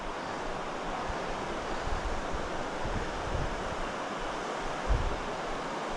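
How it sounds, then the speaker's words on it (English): Ribbon Falls, a waterfall flowing down a rock face, heard from a distance as a steady broadband rush that blends with wind, with a few low gusts against the microphone. "Is Ribbon Falls. And just kind of flowing down the rock face."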